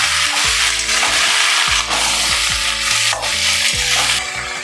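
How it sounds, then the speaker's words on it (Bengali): Potatoes frying in oil in a pan for kudli, a fish-head dish: loud, dense sizzling throughout, with repeated scraping and stirring strokes of a utensil. "আলুগুলো দিয়েও আমি একটু ভালো করে ভেজে নেব।"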